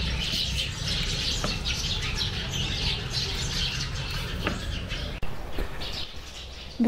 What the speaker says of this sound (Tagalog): pakinggan nyo, ang daming ibon sa hagdan namin